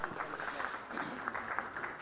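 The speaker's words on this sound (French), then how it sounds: "M. Jean-Armand Mondélis de la Banque de la République d'Haïti, des applaudissements." Steady, faint applause from a seated audience for a panel speaker at a business roundtable forum, heard from a distance as a dense, even patter.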